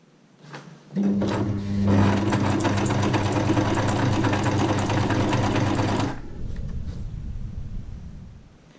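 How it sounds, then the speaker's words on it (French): A sewing machine stitches a straight line of fabric with a loud, steady, close-up motor whirr lasting about five seconds, then fades to a softer hum. "On ne regarde jamais l'aiguille lorsque la machine est en marche, sinon vous n'irez pas droit"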